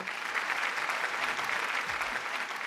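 An audience claps steadily and loudly on a Malayalam TV game show, a dense, even wash of applause lasting the whole stretch with no voices over it.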